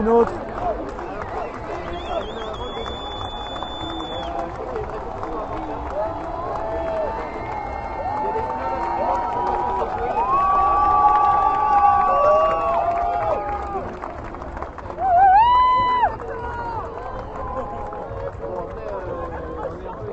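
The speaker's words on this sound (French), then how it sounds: "Et vous entendez les applaudissements. Ce public qui demande une autre." Crowd at a Nuit Debout gathering cheering and applauding after an orchestra plays, calling for an encore; a steady swell of clapping and shouts with whistles and voices rising loud near the middle and again toward the end.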